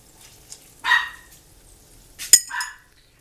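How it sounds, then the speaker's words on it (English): Dogs indoors let out a few short barks in two bursts, moderately close, separated by quiet, with faint kitchen clatter in between. "I swear they bark every time I start the camera."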